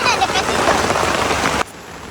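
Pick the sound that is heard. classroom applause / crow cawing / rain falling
rain falling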